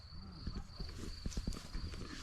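Slow, uneven clopping of Percheron mare hooves on a hard surface nearby, with talking and other farmyard noise in the background.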